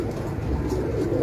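Pigeons coo in a soft, continuous low murmur at close range, layered with a steady burbling from several birds at once.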